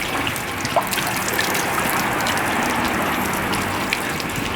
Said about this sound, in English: the water flows from the top of the mountains of Sintra down through here into this waterfall or this fountain